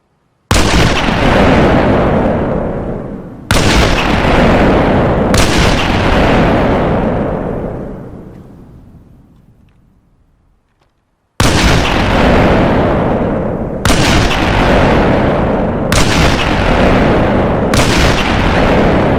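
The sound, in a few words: custom weapon sound effect from Halo mod in video game Arma Reforger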